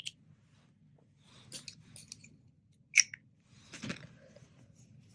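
Scissors snip a yarn tail during crochet work on a small plushie pumpkin pie, a few quiet, brief cuts and rustles with one sharper snip near the middle, close and faint.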